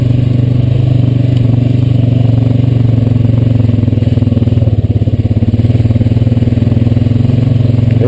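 A Honda Rancher 420AT ATV rides along a smooth grassy trail, its engine a loud, steady close drone at easy, unhurried speed with faint rattling and scraping from the terrain.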